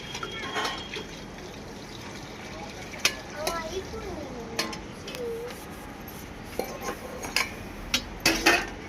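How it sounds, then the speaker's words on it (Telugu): Pots and steel utensils clatter and clink as dishes are washed by hand in water outdoors on a cold morning, scattered knocks and scrapes over a constant low wash of background noise. "దాంట్లో ముంచి లేపాలి, మళ్ళీ శుభ్రంగా కడగాలి"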